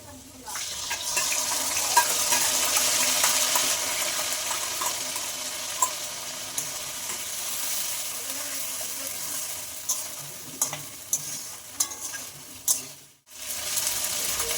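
A paste of ground cumin, ginger, green and dried chilli fries with potatoes in a pan, a loud continuous sizzle with stirring scrapes that briefly drops out near the end before resuming.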